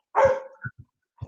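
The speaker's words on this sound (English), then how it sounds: "I don't know why he's barking" A dog barks indoors, one loud close bark followed by a few short softer yips and huffs.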